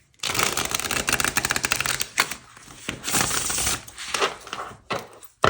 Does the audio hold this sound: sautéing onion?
no